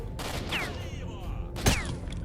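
Sharp bursts of gunfire crack in S.T.A.L.K.E.R.: Shadow of Chernobyl amid a noisy mix, with descending whistling tones and one loud impact near the end.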